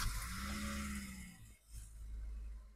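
A high-mileage car with 276,600 miles cranks and starts, a rough whirring that dips briefly then settles into a steady close idle.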